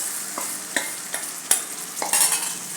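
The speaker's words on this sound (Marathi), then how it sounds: "आता आपण जी डाळ शिजवून घेतली आहे ती घालूया याच्यात।" Cooked dal goes into a sizzling masala tadka in a pan, with a soft hiss of frying broken by several sharp scraping stirs at a close distance.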